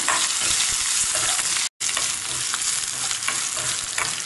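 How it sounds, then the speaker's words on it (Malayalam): Ginger being sautéed until crispy in a pan for chutney, giving a loud continuous frying crackle with scraping from constant stirring. There is one very brief dropout partway through and no talking. "നമ്മുടെ ഇഞ്ചി എല്ലാം നന്നായിട്ട് നന്നായി വഴറ്റി കിട്ടിയിട്ടുണ്ട് ഇമാതിരി ക്രിസ്പി ഇതുണ്ടോ ഇത് ഇളക്കുമ്പോൾ ആ ഒരു ശബ്ദം കേൾക്കും"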